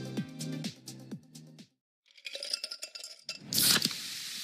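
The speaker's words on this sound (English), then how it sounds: "You hear that? That's the sound of Pepsi Zero Sugar." Glassy clinks ring out, then a short silence gives way to crackling, hissing fizz and a bright burst of bubbling carbonation as Pepsi Zero Sugar cola fizzes in a glass.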